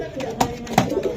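A racing pigeon gives short, low coos close by, two soft throaty pulses in about a second.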